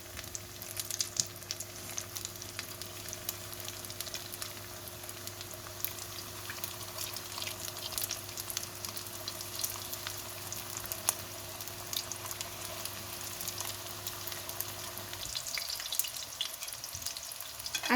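Buckwheat cutlets fry in hot oil with a steady, even sizzle and a faint constant hum, and the sound thins and roughens near the end.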